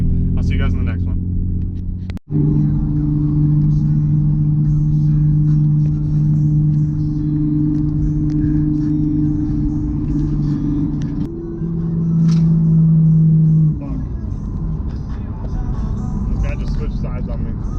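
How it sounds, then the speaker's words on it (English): Traffic rumbles along a road beside a Nissan 350Z while a Mustang races alongside, a loud, continuous engine drone with steady low tones and a brief thump, as someone talks over it. "Mustang's trying to race me, but I'm trying to get it on camera"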